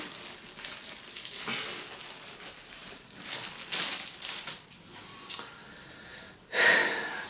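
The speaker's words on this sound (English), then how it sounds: "Remove the plastic, obviously." Plastic wrapping is pulled off a SecretLab Titan gaming chair, Joker Edition, giving close crinkling and rustling with a few sharper crackling bursts over several seconds, no speech.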